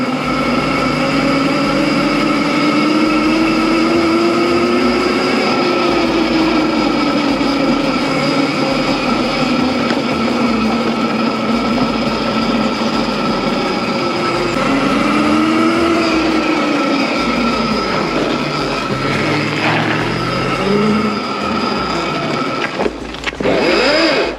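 An electric mini bike motor with an upgraded controller climbs a gradient, its loud, steady electric whine rising and falling in pitch as the load changes, with road rumble underneath.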